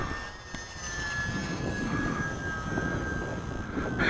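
A small Timber UMX radio-controlled model airplane flies overhead on a breezy evening, its electric motor giving a steady high whine over wind rumble, moderately distant and without speech.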